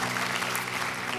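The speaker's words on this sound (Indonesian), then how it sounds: "Tepuk tangan buat Tuhan kita, haleluya." Church congregation applauding steadily throughout, dense and even clapping filling the space without letup.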